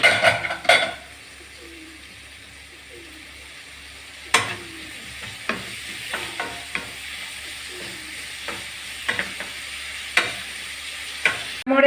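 Boiled kadachakka (breadfruit) and potato being stirred in a pan for a masala roast, with a soft sizzle and intermittent scraping and clinks of a spoon against the pan, sparse and close.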